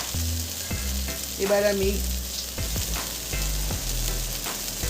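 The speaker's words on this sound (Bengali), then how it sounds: "এবার এটা ভালো করে কষাতে থাকবো।" Vegetables with turmeric powder sizzle steadily in a pan as they are sautéed and stirred for a spinach and bori curry, with scraping stir strokes over continuous frying; a voice speaks briefly.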